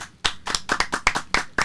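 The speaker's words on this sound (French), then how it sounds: "on applaudit quand même" A small group applauds at a gathering, with a quick, uneven run of close, crisp hand claps overlapping one another.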